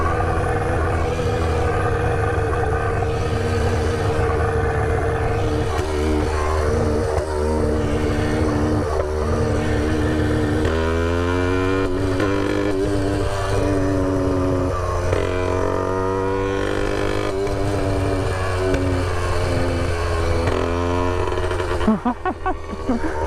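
Small engine on a motorized Brandani Cross bicycle, with a spark plug fitted in the exhaust, drones steadily and loudly close by, its pitch rising and falling as it runs downhill.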